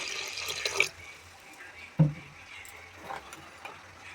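Water poured into a pot of milk while cooking polao, a short splashing pour at the very start, then quiet handling noises and a soft knock.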